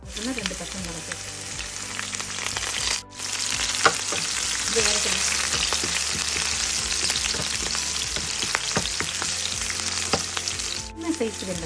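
Green chilies sizzle and crackle in hot oil for mango rice, a steady close frying hiss with occasional stirring clinks throughout.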